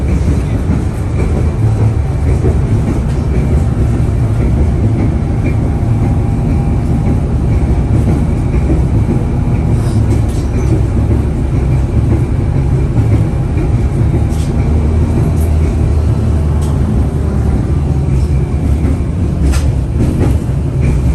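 Tram ride on Prospekt Bolshevikov in St. Petersburg, a steady loud rumble from inside the car with occasional rail clicks and rattles throughout, no talk.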